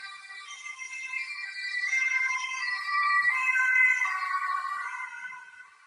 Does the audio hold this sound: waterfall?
no